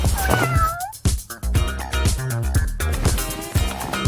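Cat meows sound over loud rhythmic music, a couple of short rising cries early on, partly masked by the beat that runs throughout.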